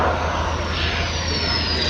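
A Sukhoi Su-27 fighter jet's engines roar loudly and continuously, a dense broadband rush with a high whine sweeping slowly downward as the aircraft passes.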